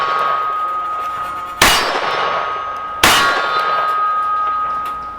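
An S&W .44 Magnum Performance Center Hunter revolver fires twice at 12 yards. Each blast is loud and sharp, about a second and a half apart, and a faint ringing tone lingers between and after them.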